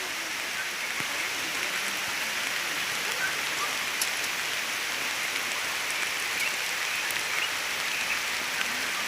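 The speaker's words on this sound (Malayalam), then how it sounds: "ഒരു ചെറിയ മഴ വരുന്നുണ്ട്" Light rain falls steadily on a misty hillside dragon fruit farm, a soft, even hiss of drops with no other sounds.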